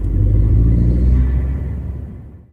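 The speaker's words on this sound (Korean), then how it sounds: "GM 퍼포먼스 배기로 이제 바뀌어져 있는데 소리가 제법 괜찮습니다." Chevrolet Aveo 1.4 turbo (Sonic) fitted with a GM Performance aftermarket exhaust, a deep steady low rumble of the engine and exhaust that holds loud and close, then fades away near the end.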